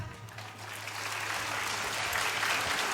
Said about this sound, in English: A loud clap